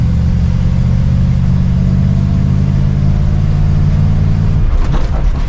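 Loud, droning engine of a 1982 Dodge Ramcharger W150 while driving, a steady low rumble that holds for over four seconds and then shifts, with rattling in the cab.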